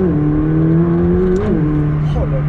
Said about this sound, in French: McLaren nous le rappelle en accélérant qu'on a quelque chose quand même d'incroyable.